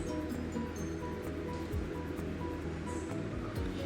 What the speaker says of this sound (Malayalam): ഇനി നമുക്കിതൊരു സ്ട്രെയിനറിലേക്ക് ഒഴിച്ച് സ്ട്രെയിൻ ചെയ്യാം